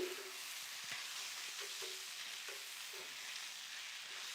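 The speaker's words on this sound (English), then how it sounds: "So I'm also just like scraping this a little bit so that any stuck or burnt cheeses is" A spatula scrapes stuck, browned cheese across a hot griddle as cheesesteak filling with jalapeno popper ingredients fries, a steady soft sizzle broken by several short scraping strokes, fairly quiet and with no talking.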